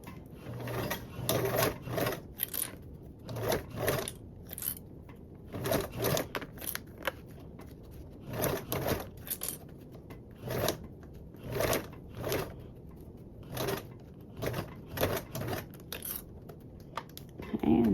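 A sewing machine stitches around a corner in short bursts, whirring runs separated by pauses as the stitch length is shortened, close and clear, with a person talking in between.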